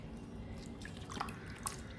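Water drips and squishes softly while Monstera adansonii cuttings are washed in clean water, a few faint, close wet taps and small splashes over a quiet background.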